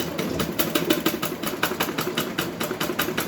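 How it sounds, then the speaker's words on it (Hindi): A sewing machine stitches a blouse lining with a steady, rapid mechanical chatter that runs close and continuous throughout, with no voices. "तो ये सिलाई मैं एक पैर की दूरी पर लगाऊंगी इसमें।"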